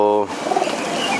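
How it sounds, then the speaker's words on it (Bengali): A pigeon gives a short, soft coo close by, right after a brief burst of voice. "আমি আপনাদেরকে আরও কিছু নতুন পায়রা আপনাদেরকে দেখাচ্ছি।"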